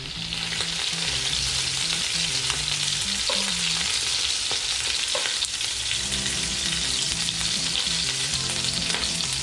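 Pork asado, Pampanga-style, fries in a pan with a loud, steady sizzle and crackle running unbroken throughout, close up with no voices.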